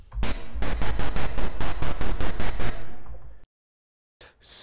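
A bright FM synthesizer tone built in Pure Data, repeated in quick, even pulses, about a dozen times, then a reverberant tail fading out before a brief silence and a faint noise.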